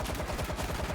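Heavy gunfire from a big gun in the zombie shooter World War Z, a dense burst of rapid shots filling the whole second with no talk.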